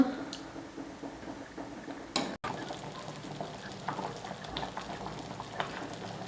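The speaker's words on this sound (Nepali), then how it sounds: "हेर्नुस् त दाल मजाले छड्किरहेको छ।" Lentil dal for a Nepali-style dal tadka bubbles and simmers in a pot, a soft continuous burble with faint ticking pops close by, briefly cut by a loud knock partway through.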